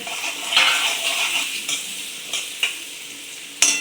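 Potatoes and cabbage frying in oil for a paneer samosa filling, with a bright continuous sizzle broken by several sharp spatula scrapes and clinks against the pan, close up.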